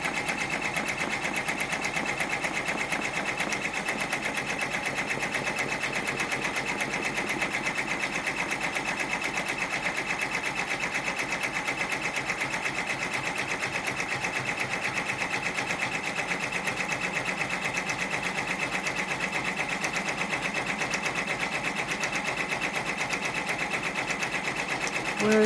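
A sewing machine stitches stabilizer onto an Easter mug rug, a steady, continuous mechanical whir with fast rhythmic needle ticking that runs unbroken and fairly loud throughout, with no talking.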